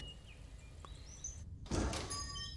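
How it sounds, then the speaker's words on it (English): A restaurant door thunks and slides open near the end, a sudden burst after a quiet stretch with faint birdsong in the background. "The door was unlocked."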